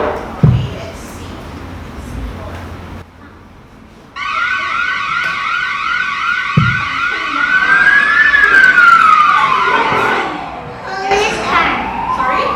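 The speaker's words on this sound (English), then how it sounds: "I'm sorry, it's fire alarm." A school fire alarm wails in a loud rising and falling electronic tone, sounding alone for a few seconds after scattered thumps and children's chatter, and later changing pitch as voices and noise return over it.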